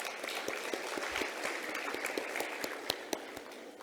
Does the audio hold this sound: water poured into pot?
no